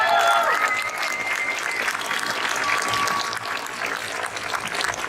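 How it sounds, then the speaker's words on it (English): A crowd at a Texas event gives a sustained round of applause for the organisers, dense clapping holding steady and fairly loud throughout, with no voices over it. "Give them a round of applause."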